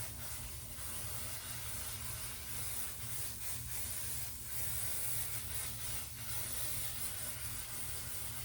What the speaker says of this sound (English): we need to put some basting spray down